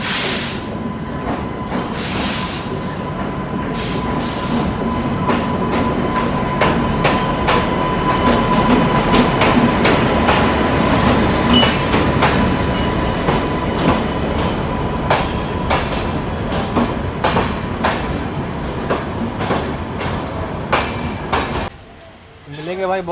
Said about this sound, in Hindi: प्लेटफॉर्म नंबर 1 पर अभी डिब्रूगढ़ राजधानी एक्सप्रेस आ रही है